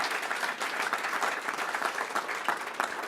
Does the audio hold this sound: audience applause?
yes